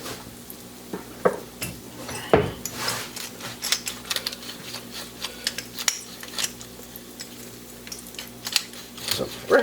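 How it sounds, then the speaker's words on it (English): A pepper mill grinds fresh black pepper over a Greek lamb leg steak with bacon, giving a run of dry, crackly clicks and scratches against faint kitchen clatter. "Some fresh ground pepper on there."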